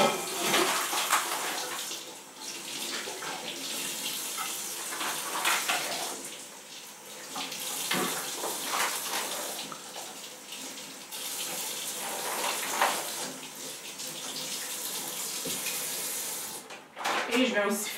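Tap water runs steadily and fairly loud for the whole stretch while something is rinsed in a kitchen sink during meal prep, with small splashy surges as the flow hits the items.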